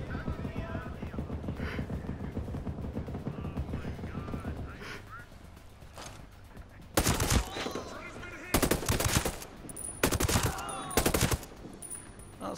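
Bursts of automatic gunfire and single shots crack out in the shooter game Ghost Recon Breakpoint, starting as a muffled rattle and then coming as loud, separate volleys over a busy game soundscape.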